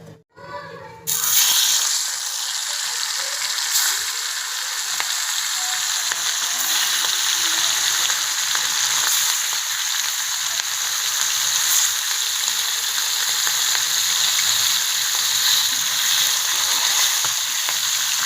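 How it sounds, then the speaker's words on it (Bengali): Spice-coated fish, for a doi ilish dish, fries in a kadai with a loud, continuous hiss and sizzle that holds steady and close throughout after a short quiet start. "দেখুন কড়াইতে আমি মাছ দিয়ে দিয়েছি। একে আমি হালকা করে একটু ভেজে নেব।"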